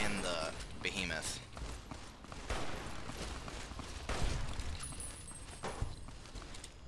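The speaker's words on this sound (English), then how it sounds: "they're shooting at me and the behemoth" Gunfire from a Fallout game with a mutant behemoth nearby comes as scattered, muffled shots and thuds mixed with other game sounds, all under a running voice.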